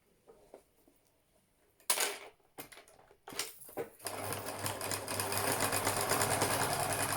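A sewing machine stitches a fabric face mask seam, starting with a few soft handling clicks and knocks, then settling into a steady, close mechanical whirring rattle for the last few seconds.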